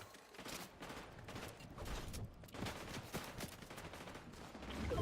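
Rapid bursts of video game gunfire crackle steadily and loudly through the whole stretch, like a sustained fusillade with no talking over it.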